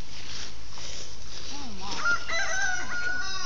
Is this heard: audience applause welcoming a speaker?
no